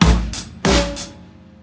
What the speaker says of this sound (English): all I do is I play quarter notes on the bass drum,